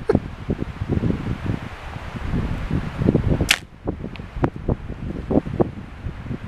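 An arrow flies from a bow during target practice outdoors in the snow, giving a sharp, brief whoosh and snap that stands out against continuous wind buffeting the microphone.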